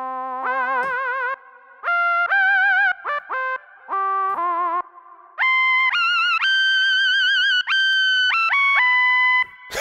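Roland JX-3P analog synthesizer playing a vocal-style patch, a series of sustained, bright tonal notes and short phrases in a rising and falling melody, with echo-like tails and no talking.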